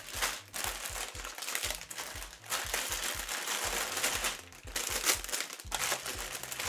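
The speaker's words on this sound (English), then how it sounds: "There's going to be a little extra crinkling." Plastic LEGO parts bags crinkling and crackling continuously up close, busy rustling with brief pauses, no voices over it.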